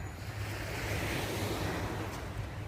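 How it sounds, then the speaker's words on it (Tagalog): Sea waves wash onto a beach in a continuous broad roar mixed with wind buffeting the microphone, loud and unbroken for the whole stretch. "tabi ng dagat."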